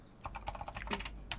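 A quick burst of computer keyboard typing, several crisp key clicks in fast succession, close and fairly quiet.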